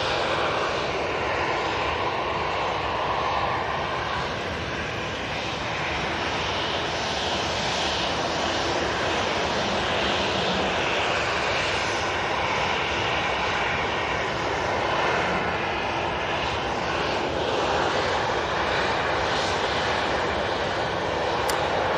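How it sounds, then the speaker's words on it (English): A Qatar Boeing 787-9 Dreamliner passes over the airport with a continuous, broad jet engine roar that holds steady and fairly distant throughout, with no voices over it. "we've got the Qatar 787-9 Dreamliner that's about to cross over"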